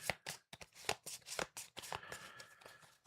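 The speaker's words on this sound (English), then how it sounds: "Let's just shuffle this since we added our new" A deck of cards from the Trudvang Legends board game is shuffled up close in quick, uneven riffles and flicks.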